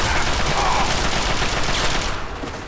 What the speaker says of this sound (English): Just sit here and take pot shots at this guy because he's stuck.